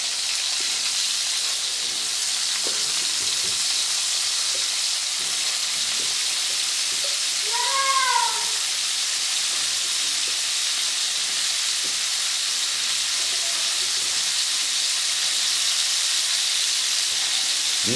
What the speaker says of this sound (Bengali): এবার ওই তেলের মধ্যেই বন্ধুরা আমি ইঁচড়গুলোকে একটু ভেজে নেব।